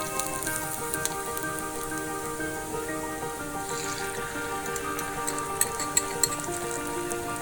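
An egg fries briefly in a pot of Nepali ajwain soup with a soft, continuous sizzle, partly masked by steady background music.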